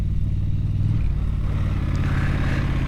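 A Triumph Scrambler 1200XE motorcycle engine runs steadily up close, with a deep low rumble and a slight swell in revs partway through while the bike is ridden off-road.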